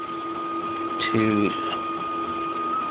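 A Prusa Mendel 3D printer runs a print job, its stepper motors giving a short, stepped whine of rising and falling tones over a steady electrical hum, with a person talking alongside.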